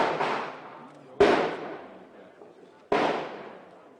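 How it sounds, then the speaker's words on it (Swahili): Gunshots ring out during an armed confrontation with robbers fleeing police in Lavington, Nairobi: three sharp, loud cracks with long echoing decays, spaced over a few seconds, no talk. "Hewa ya eneo la Lavington ilihanikizwa na milio ya risasi na mandhari ya moshi"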